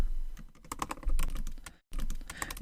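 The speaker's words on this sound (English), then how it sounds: "It might seem a bit tedious to type this out." Rapid typing on a computer keyboard, a steady stream of close, crisp key clicks with a brief silent gap near the end before the typing resumes.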